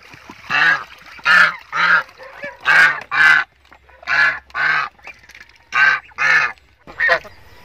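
Pet ducks and chickens at their water drinker call out close and loud, with about a dozen separate honking quacks in uneven groups and brief pauses in between.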